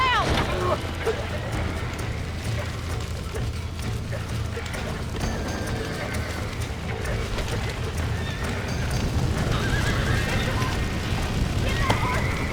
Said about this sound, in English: We gotta get to the horse!